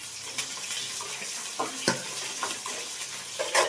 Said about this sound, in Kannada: ನೋಡಿ ಇಲ್ಲಿ ಹುಣಸೆಹಣ್ಣು ಮತ್ತು ಟೊಮೊಟೊ ಎಲ್ಲ ಚೆನ್ನಾಗಿ ಬೇಯ್ತಾ ಇದೆ